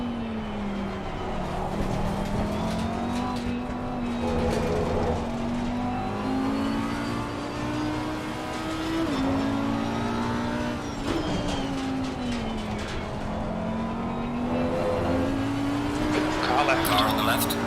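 GT3 race car in Assetto Corsa Competizione at Indianapolis, its steady engine drone rising and falling through the gears while another car runs alongside. A spotter talks over it.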